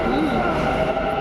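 A metro train rumbles loudly and steadily close by, a dense continuous roar with people talking over it.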